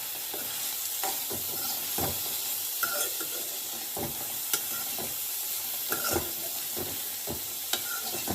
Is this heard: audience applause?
no